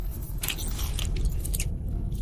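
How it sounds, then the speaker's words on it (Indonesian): Close, crunchy chewing with repeated bites and mastication noises over a low rumble, lasting a couple of seconds. "Itu suara mengunyah."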